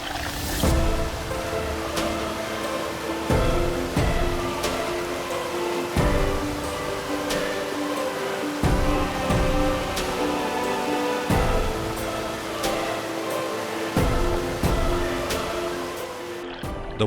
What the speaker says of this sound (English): The gushing sound of the cascading water gradually grew louder as we walked closer.